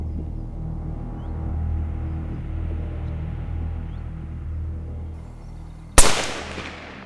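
A rifle shot during a deer hunt, one sharp loud crack that rings off into a short decay, following several seconds of quiet outdoor ambience.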